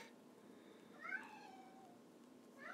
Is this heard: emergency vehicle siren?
no